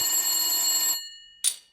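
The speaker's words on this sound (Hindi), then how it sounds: "तभी फोन की घंटी बजती है।" A telephone bell rings loudly for about a second, then a brief second ring follows after a pause.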